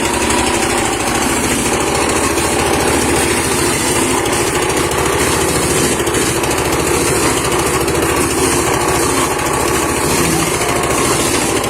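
A motorized cassava grater runs loud and close at a rural cassava flour mill, a steady dense engine drone with no break throughout.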